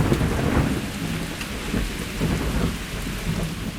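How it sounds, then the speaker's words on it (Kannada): Steady rain falls in a drizzle near Sakleshpur, with a dense, even hiss of drops and a low rumble underneath, filling the whole stretch with no voices. "ಸೊ ಮಳೆ ನೋಡಿದ್ರೆ ಮಳೆ ಬರ್ತಾನೆ ಇದೆ."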